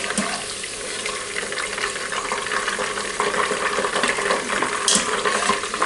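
Tempura-battered pork loin frying in just a little oil, a steady close crackle and sizzle holding fairly even throughout with brighter pops near the end, no voices.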